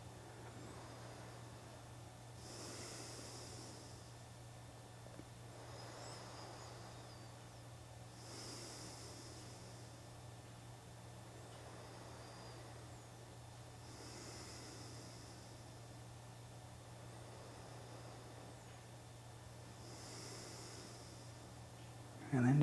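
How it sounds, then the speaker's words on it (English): Slow, regulated yoga breathing during a quiet relaxation practice. Soft hissing breaths come about four times, evenly spaced several seconds apart, over a steady low hum. "bring it back to the feel and the sound of the breath in the body"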